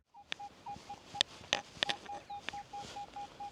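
Signal tone from a Minelab Manticore metal detector: a steady run of short, evenly spaced mid-pitched beeps sounding alone, punctuated by a few sharp clicks and knocks.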